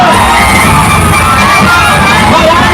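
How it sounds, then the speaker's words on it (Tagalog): Large crowd in Manila welcoming Vice President Sara Duterte, a dense roar of cheering, yelling and applause that stays loud and continuous throughout. "ating salubungin ng mainit na palakpak at sigawan!"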